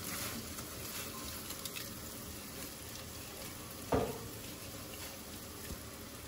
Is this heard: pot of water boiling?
yes